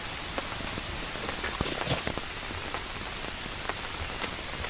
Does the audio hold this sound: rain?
yes